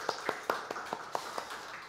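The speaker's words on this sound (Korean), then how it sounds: "우리 박수 한번 할까요?" A church congregation claps in a loose, even rhythm during a Sunday service, about eight distinct claps spread over two seconds, moderately close with slight room reverberation and no talking.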